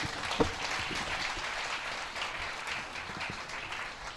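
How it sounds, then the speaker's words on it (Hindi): Steady applause from the audience at a Hindi comic poetry gathering, a continuous wash of clapping at moderate volume with no talking. "एक बार जोरदार तालियां बजाओ।"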